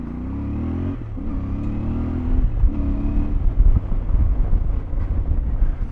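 A CFMOTO 450MT motorcycle engine drones loudly and steadily off-road, its pitch shifting as it revs, with rumbling wind noise over the microphone.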